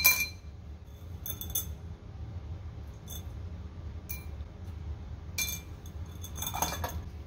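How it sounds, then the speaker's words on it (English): Glass clinking as a stuck bromine bottle is poured through a piece of broken glass: several short, bright clinks spaced a second or two apart over a low background rumble, close by, with no talking. "Pour it through this broken glass"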